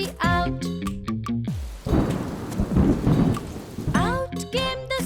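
Rain and thunder sound effect in a cartoon nursery rhyme: a loud rolling rumble and steady rain wash in the middle, set between sung melody on either side.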